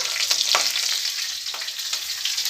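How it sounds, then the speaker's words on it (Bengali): Green and dry chillies frying in hot oil give a loud, continuous close-up sizzle with fine crackling pops throughout and no voices. "এটা একটু লালচে করে আমি ভেজে নেবো"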